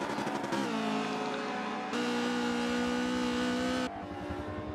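A retro BMW race car in a racing video game at Suzuka circuit, its engine droning at high revs with two abrupt gear-shift steps in pitch, loud and close throughout without any talk.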